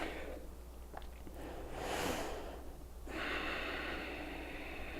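A deep, audible breath is drawn through the nose during a yoga flow, rising in a long airy rush and followed by a second sustained breath, close and fairly loud.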